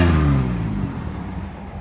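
A 2002 Chevy Camaro with a 3.8L V6 and a Cherry Bomb Pro muffler gives a short, deep exhaust rumble that begins loud and fades as it settles, heard close with no talking.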